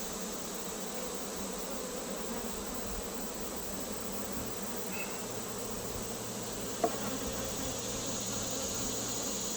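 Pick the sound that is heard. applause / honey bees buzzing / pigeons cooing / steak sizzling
honey bees buzzing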